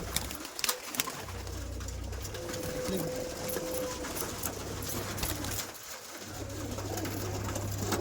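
Madras pigeons coo in a loft, low repeated throaty murmurs running through the scene amid a continuous busy background hum.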